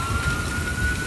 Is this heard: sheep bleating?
no